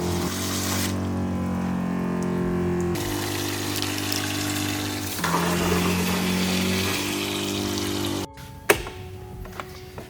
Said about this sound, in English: As soon as the water pumps turn on, the water level gauge turns on.